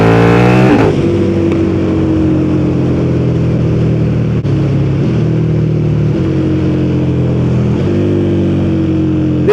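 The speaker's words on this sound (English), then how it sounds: "exhaust just sounds so angry." A motorcycle engine revs hard with rising harmonics and a sharp gear change, its exhaust droning loud and continuous throughout.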